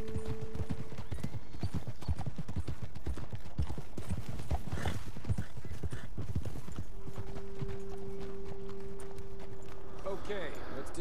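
Horses in Red Dead Redemption 2 gallop with dense, rapid hoofbeats clattering close by, slowing near the end, while people talk over them.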